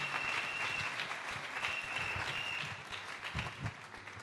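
A church congregation applauding, sustained dense clapping from many people in a large room, fairly loud and steady before tapering slightly at the end.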